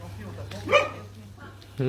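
A dog at a winery in Vouvray, France, gives one sharp bark from some distance above, while people talk around it.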